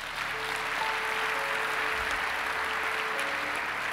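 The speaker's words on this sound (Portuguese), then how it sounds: "Dá um aplauso ao Senhor aí." Congregation at a church worship service applauding, a steady wash of clapping filling the room throughout, with faint tonal hum underneath and no talk over it.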